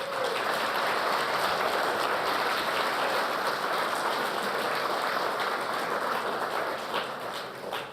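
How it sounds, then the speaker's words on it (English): Keynote audience applauding steadily, a dense even wash of clapping that holds for several seconds before easing slightly at the end, with no voices over it. "Everybody give her another round of applause, please."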